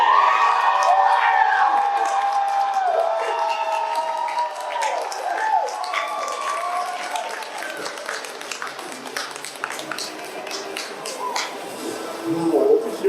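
An audience cheers and whoops for a contestant in a voice tournament at a gaming convention, with shouts and high voices over clapping that starts strong, eases, then rises again near the end.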